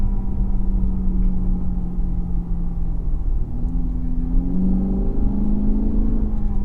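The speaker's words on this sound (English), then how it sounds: "There's something about a naturally aspirated V8 exhaust note that just can't be replicated." A naturally aspirated V8 exhaust on a 2019 Lexus GS F 10th Anniversary gives a deep, steady rumble close by, its tone climbing smoothly as the engine revs rise under acceleration.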